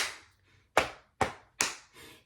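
A group stomps and claps the We Will Rock You rhythm, a few sharp percussive hits roughly evenly spaced and heard nearby, without any speech.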